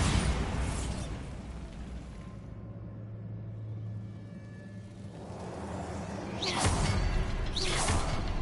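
A Bombarda explosion spell goes off in a fantasy magic video game, a deep rumbling blast with a whooshing burst, then a second louder eruption near the end.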